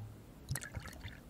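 Alcohol poured into a glass in a 1920 setting, heard as a few faint, close splashes and trickles of liquid over a quiet room.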